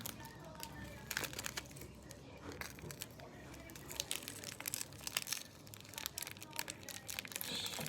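A crinkly plastic package for onigiri is pulled open by hand, giving close, irregular crinkling and tearing rustles that are fairly quiet, with no talking.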